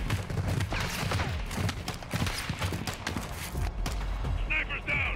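Gunfire in the video game Modern Warfare 2, a rapid run of sharp shots and impacts with a busy battle mix, while voices shout over the action.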